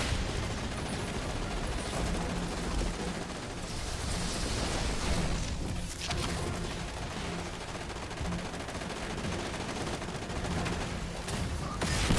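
Dense, continuous gunfire in a video game, sustained rapid shots layered over a loud, busy background.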